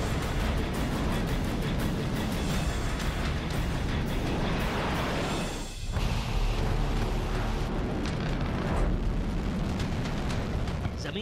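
A North Korean missile launch roars continuously at close range, a dense, sustained rumble and blast filling the whole stretch, dipping briefly near the middle before surging back just as loud.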